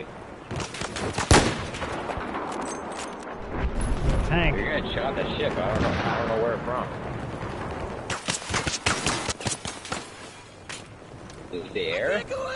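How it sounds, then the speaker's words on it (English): Tank gunfire and battlefield shooting in Battlefield 4, a burst of loud blasts and crackling fire with repeated sharp shots near the end, mixed under players talking. "Tank shooting us"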